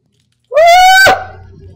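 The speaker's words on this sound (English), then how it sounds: "I meowed." A single drawn-out Minecraft cat meow, loud and close, rising then holding before cutting off into faint background noise.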